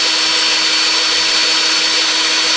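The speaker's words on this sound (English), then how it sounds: "Gotta drill a couple new holes." Power drill boring new holes in a metal air tank strap bracket, a steady loud whine that holds constant throughout with no pauses.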